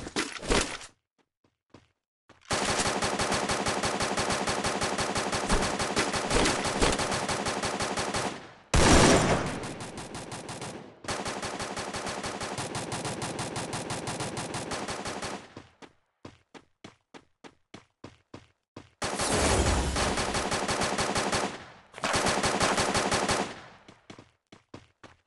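Gunfire in the video game Free Fire comes in loud, rapid automatic bursts with short pauses between them, plus a few single shots and clicks, with no talk.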